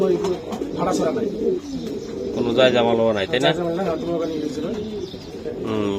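Nun pigeons cooing in a loft, repeated soft throaty coos close by, heard beneath ongoing conversation between people.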